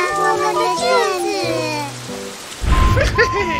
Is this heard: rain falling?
yes